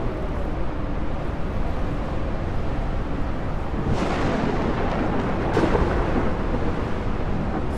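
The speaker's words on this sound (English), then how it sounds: "Oh, two different types of lightning coming in." Thunder from lightning rolls through a sandstorm in Ark: Survival Ascended, Scorched Earth map, a steady loud rumble with two sharper cracks partway through, no talking.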